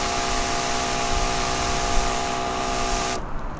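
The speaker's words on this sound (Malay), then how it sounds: "Okey, tengok semburan air dia." A battery-powered 20-liter sprayer pumps out water in a steady, loud, continuous hiss with a faint motor hum beneath. It runs for about three seconds and then the high hiss drops away abruptly.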